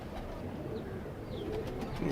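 Soft cooing from a tailless female pigeon in a quiet, muffled setting, low and steady, with faint background noise and no voices.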